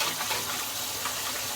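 Hot water pours from a tap at full flow, a steady close-up rush and hiss of running water with no one speaking.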